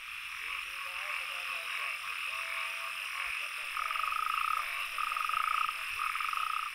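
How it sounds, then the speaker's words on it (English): Natterjack toads croak in a chorus, long rolling trills repeating at a steady rhythm over a constant high insect-like drone, moderately near and without voices. "natterjack toads show their good manners, especially when they have a date with the ladies."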